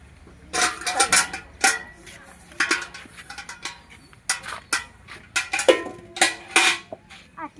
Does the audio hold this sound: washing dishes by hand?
yes